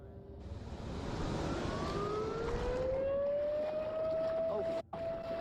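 A siren slowly rises in pitch over a loud engine rumble and rushing noise, growing steadily stronger before a brief dropout.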